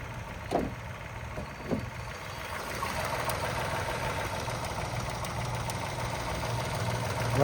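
A Mahindra XUV300 W6, a 2023/24 model with a 1.2-litre petrol engine and a recently fitted CNG kit, idles with a steady low hum and a few light knocks, heard close and fairly quiet.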